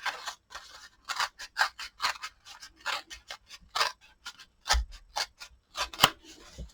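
Scissors snipping paper for a Christmas tag, a quick run of crisp separate cuts at an uneven rhythm, close and clear with quiet gaps between them.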